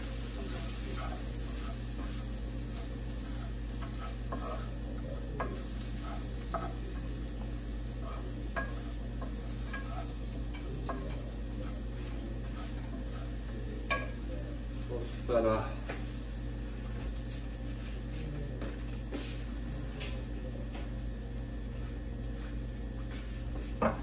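Curry with flour being stir-fried in a pan gives a soft sizzle with occasional scraping and clinking of a utensil, faint and close, while someone talks quietly over it.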